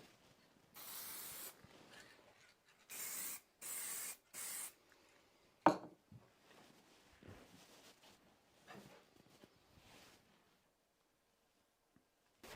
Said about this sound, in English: So I've got my rudimentary little spray booth and a couple of bench cookies